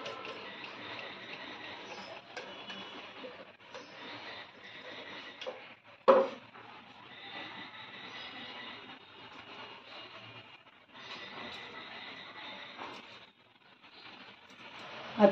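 Mixer grinder blitzing ingredients for churma modak, a thin, faint whirring drone running in uneven spells with brief pauses and a sharp knock between them.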